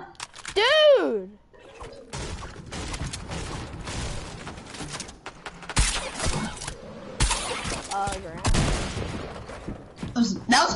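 Gunfire in the Fortnite Battle Royale video game, with bursts and shots scattered across the clip beneath excited shouting from players.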